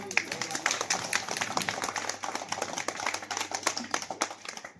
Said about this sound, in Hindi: जोरदार करताली तो स्वागत करो